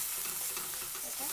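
Food frying in a pan is stirred continuously while potatoes are being cooked, giving a steady, close broadband sizzle with soft scraping texture throughout and no talking.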